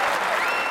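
Crowd applause and cheering in the London 2012 Olympic video game, a steady, dense wash of clapping filling the brief moment after a successful shot.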